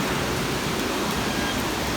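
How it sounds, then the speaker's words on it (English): Heavy monsoon rain pours in Dharamsala as a dense, steady, even roar with no breaks, loud and close. "So basically it's pouring rain"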